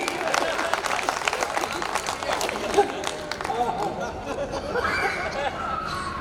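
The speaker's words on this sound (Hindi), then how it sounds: "तालियां बजा दो" An audience at a Hindi comedy poetry stage show claps and laughs, brisk applause at first that thins out as talk and chuckles carry on beneath.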